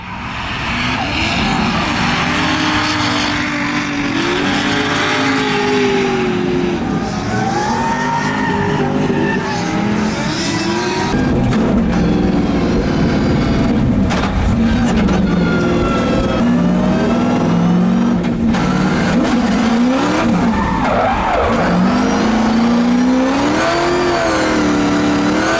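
A 1000whp drift car on an open track, its engine roaring and revving hard through continuous shifting pitch, with tire squeal and skidding throughout, loud and close the whole time.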